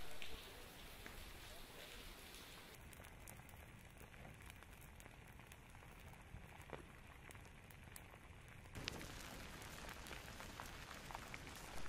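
Steady rain patters on surfaces near flowing lava in Pahoa, Hawaii, where a metal fence burns; a continuous broadband hiss of falling drops runs the whole time with scattered drip ticks and a slight change near the end.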